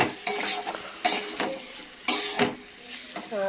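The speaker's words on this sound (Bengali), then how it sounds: "এবার হালকা ফ্রাই হতে দেবো যাতে মশলার কাঁচা গন্ধটা চলে যায়" Spice paste lightly frying with egg curry in a pan, a soft sizzle broken by four sharp metallic spoon strokes spaced about a second apart, close up.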